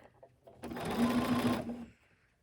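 A sewing machine stitches a fabric face mask, turning at a corner, in a single close, steady whirring run of just over a second, with quiet handling sounds before and after.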